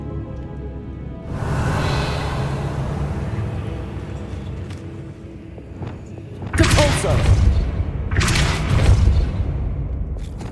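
Bombarda blasting spell set off in Hogwarts Legacy: a sustained rumbling roar, then two loud crashing bursts of explosion and debris in the second half, with no talk over it.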